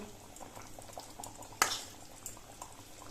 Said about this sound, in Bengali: এইভাবে কিছুক্ষণ আমি ফুটিয়ে দেব, কোনো চাপা দেব না কিন্তু